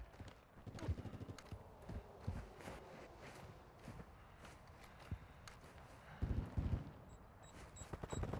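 Scattered gunfire in a Call of Duty: Modern Warfare II multiplayer match on the Dome map, quieter irregular shots and short bursts at a moderate distance mixed with footsteps and game noise.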